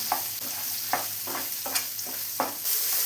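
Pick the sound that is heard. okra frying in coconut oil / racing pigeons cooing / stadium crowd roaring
okra frying in coconut oil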